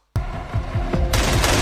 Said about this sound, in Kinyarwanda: bararekura amasasu bararasa urufaya